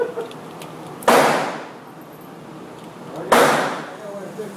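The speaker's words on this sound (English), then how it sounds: "hey Chris, I'm gonna shoot his top piece in the head" Beretta 92FS Inox pistol fired at a gun range: two loud, sharp shots about two seconds apart, each a hard crack followed by a quickly fading tail.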